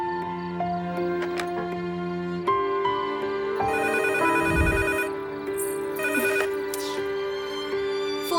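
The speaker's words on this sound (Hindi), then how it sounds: "रिसीवर उठाकर साइड में रख दो माँ, फिर नहीं बजेगा।" Landline telephone ringing in a rhythmic electronic trill that repeats under a swelling film score, fairly quiet and steady, with no talking.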